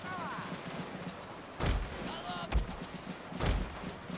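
Musket and cannon fire from a Total War battle with Russian forces, heard as three heavy booming blasts spaced about a second apart over a continuous bed of distant crackling gunfire and battlefield noise.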